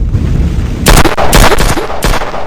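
Gunfire from a shooting video game: a short burst of loud, close shots, then a rapid volley of overlapping blasts and one more shot near the end, all over a steady background hum with no talking.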